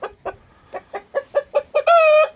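A young rooster chick gives a quick run of eight short, evenly spaced clucks, then breaks into a longer, strained squawk like an early crow, close and alone.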